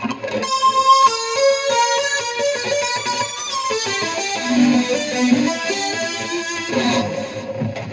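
A distorted electric guitar plays a fast run of tapped notes, then settles into long sustained notes wavering with vibrato, effects-laden and alone.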